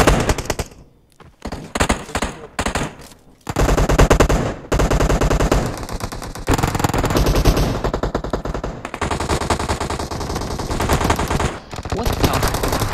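Loud, dense video game gunfire, long machine-gun bursts and overlapping shots that roll almost without a break, saturated and close, with a brief lull early on before the barrage resumes.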